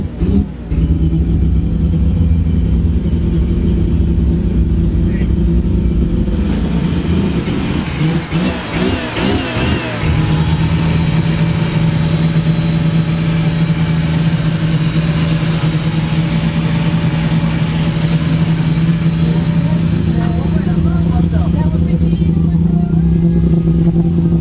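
A Mazda RX2 coupe with a brand new rotary engine on a rich tune, running loudly close by with a steady idle, a burst of revving in the middle, and a voice talking over it.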